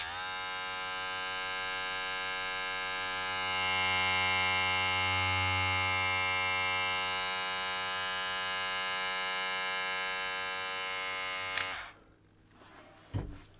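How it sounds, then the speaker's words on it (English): A BESTBOMG cordless professional hair clipper motor runs with a close, steady electric hum and buzz for about eleven seconds, then cuts off abruptly, followed by a couple of faint handling clicks. "I'm turning on again and listen to the sound of the motor inside."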